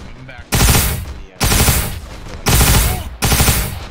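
Automatic weapon fire in ARMA 3 with a Warhammer 40k mod: four loud, close bursts of rapid shots, each roughly half a second to a second long, separated by short gaps.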